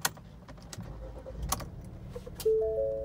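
A 2017 Ford Escape engine cranks and catches after faint clicks and rustling, then settles into a steady near hum of idle.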